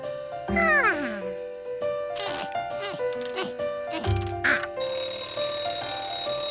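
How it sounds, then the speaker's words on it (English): A cartoon alarm clock's bells are struck by its ringer in bright metallic bursts, mixed with clanks and bouncy cartoonish tones, ending in a sustained clattering ring. "The ringer hit the bells when the alarm went off."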